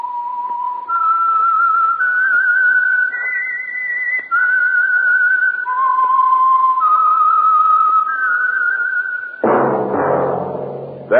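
A lone whistler carries the signal tune of The Whistler radio program, a clear, steady melody of held and sliding notes for about nine seconds, then gives way to a burst of orchestral music.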